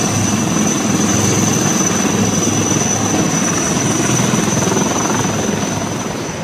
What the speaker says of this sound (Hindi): इन हेलीकॉप्टरों के जरिए सभी को निकाला गया।